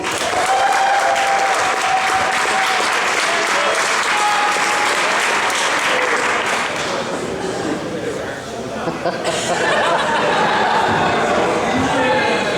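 Loud, sustained applause from a convention crowd at PlayOnCon 2013 for the winner of an Iron Bartender contest, a thick continuous wash of clapping with chatter mixed in, dipping briefly near the end before swelling again.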